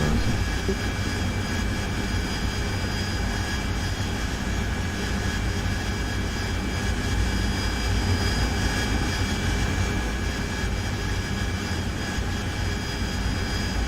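Jet aircraft in a flight simulator game flying near an airfield, a steady, loud engine roar with a constant whine that holds evenly throughout.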